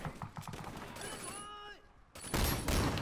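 Gunfire from the video game Sleeping Dogs, a few sharp shots early, then a burst of loud broadband firing near the end, with harmonic game tones and some talk mixed in.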